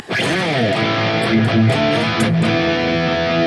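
An electric guitar played through the OD9 overdrive of a Valeton GP-200 rings out with sustained, gritty chords and bending notes, loud and close, with no voices.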